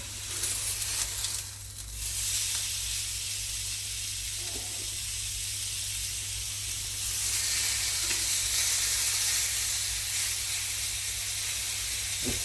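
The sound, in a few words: steak sizzling on a grill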